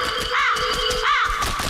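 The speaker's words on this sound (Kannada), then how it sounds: "ಬಿಳಿ ಕಾಗೆ ಬಂದು ಕುಗ್ತೈತಿ ತಲಿನ" A cartoon crow caws twice in quick succession, loud and close, each call a rising and falling rasp over a steady background hum.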